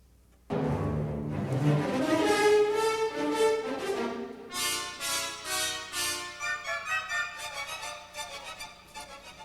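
An orchestra sounds a loud brass-led four-note minor-second motto that swells, then gives way to a series of pulsing, repeated chords that gradually soften.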